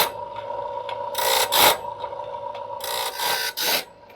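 A Woodmizer BMS-25 sharpener grinds a bandsaw blade, with a steady mechanical hum broken by repeated rasping grinding passes that swell and fade at a moderate distance.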